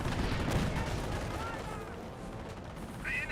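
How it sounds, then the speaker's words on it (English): Mortar and gunfire rumble in a Company of Heroes battle, with dull booms and crackling shots that fade back under a faint high tone. "Oh, we do have a mortar on the field."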